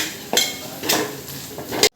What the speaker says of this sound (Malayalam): ഇനി ഇതും ഒന്ന് നന്നായി വഴറ്റിയെടുക്കണം.